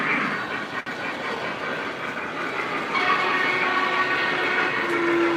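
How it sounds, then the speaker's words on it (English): An O-gauge model steam locomotive runs with a continuous whirring rumble and mechanical clatter. Near the end its hooter whistle sounds briefly as a short, steady tone. "What do you guys think of the hooter whistle"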